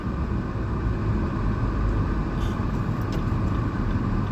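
Steady, loud rumble of road traffic with a truck close by, idling and moving slowly where it blocks a turning lane on a city street; continuous engine noise with no speech.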